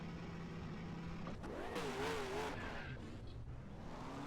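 Race car engines from the NASCAR Racing 2003 video game, Cup Series cars at Phoenix, rumbling steadily with a rising, wavering engine pitch mid-clip, close and fairly loud throughout with no talk.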